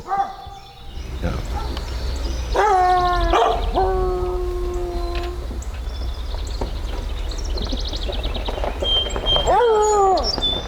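Dogs, apparently hounds, bark and howl repeatedly along a rural road beside neighboring properties during a deer depredation hunt, drawn-out baying cries rising over engine rumble with a voice talking in between.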